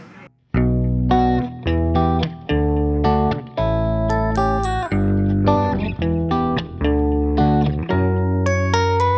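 A clean, effected guitar plays a melodic song passage with sustained chords and single notes, a steady rhythm with a shimmering, echoey tone.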